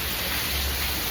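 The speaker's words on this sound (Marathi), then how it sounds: "असा धो धो धो धो पाऊस पडतोय" Heavy monsoon rain pours down steadily, a dense, loud hiss of water that fills the whole moment with no breaks and no voices.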